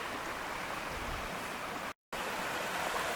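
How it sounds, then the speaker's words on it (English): A creek running through a campsite on the Superior Hiking Trail near Silver Bay gives a steady, broadband rush of flowing water, close and even throughout, with a brief dropout of total silence near the middle. "So here's the creek that runs through the campsite."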